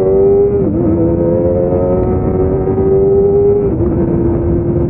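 A Kawasaki Ninja ZX-25R inline-four motorcycle engine rides at night under steady throttle, its high, smooth buzzing drone held close and loud, with small pitch dips as the quick-shifter clicks through upshifts.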